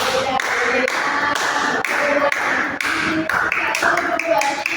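Children clap their fingers in a steady beat to a counting song. The loud, crisp taps are evenly spaced and continue through the whole passage, with the singing voices mixed in.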